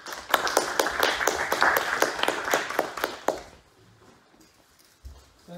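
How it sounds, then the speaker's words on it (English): Brief applause from a small audience at a policy talk, a light patter of claps for about three seconds that then stops abruptly into near silence. "So please, let's all give a round of applause."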